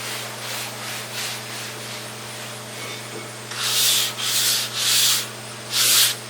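Hand sanding of an interior panel from a 1969 Buick Riviera with light, wiping pressure: a steady soft rubbing, then four louder, rhythmic back-and-forth sanding strokes close by, with no talking.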